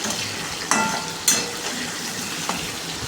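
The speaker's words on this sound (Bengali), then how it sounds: "এখন আলুটা ভেজে নিচ্ছে লাল লাল করে আলুটা ভাজবো একদম কড়া করে" Potato pieces fry in hot oil for biryani, giving a steady soft sizzle with a few sharp clinks of stirring, close and without talk.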